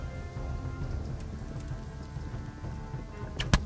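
A horse's hooves clip-clop at a gallop in the video game Kingdom Come: Deliverance, quiet and rhythmic over soft ambient noise, ending in a sharp impact.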